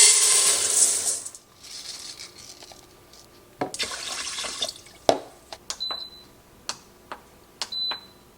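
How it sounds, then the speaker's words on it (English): Green beans being rinsed under a kitchen tap: a hiss of running water that stops, then intermittent splashes, drips and clinks of beans and a colander at close range. "I just washed up the green beans for dinner."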